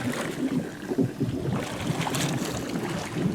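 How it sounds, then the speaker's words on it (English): Swimming pool jets bubbling and churning at the pool stairs during a morning startup, a steady broadband wash of gurgling water with soft splashy bursts throughout. "Bubbles in the stairs."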